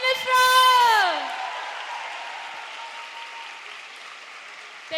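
An audience claps in applause at a live stage event; the clapping is loud at first, then holds as a broad, steady wash that slowly thins, with a voice and a ringing tone above it at the start.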